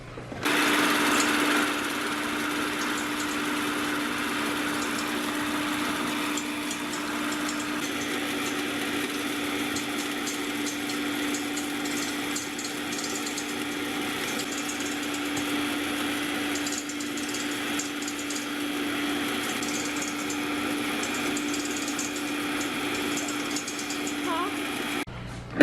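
Electric hand mixer whipping egg whites on high speed, a constant close whine and hum holding steady throughout, with faint rattling of beaters in the bowl.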